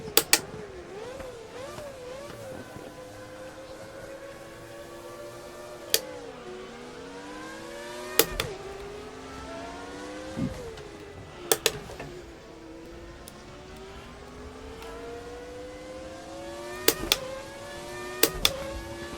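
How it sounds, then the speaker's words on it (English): A 1990s Formula 1 car engine in the RaceRoom racing game wails as it climbs and drops through the revs, with sharp clicks of gear changes scattered throughout and no voices. "This is a 90s Formula 1 car."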